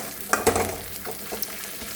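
Onions fry in a pan while a cook prepares a bacha fish curry; a steady soft sizzle runs throughout, with a few brief stirring scrapes standing out.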